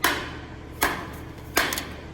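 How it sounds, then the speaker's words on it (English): A rubber mallet strikes a split coupler during assembly, three sharp, separate knocks spaced under a second apart, close and fairly loud against a quiet background. "You'll hammer that with a mallet or a rubber hammer."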